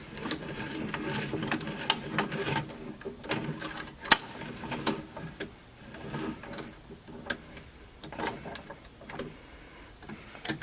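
A car part being clamped and bent in a vise during a 1981 Pontiac Trans Am engine swap: irregular metallic clicks, ratcheting turns and sharp knocks, close by, with quieter gaps between bursts and no talk.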